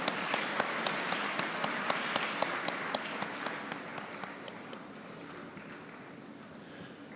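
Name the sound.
applause for a graduate at a university convocation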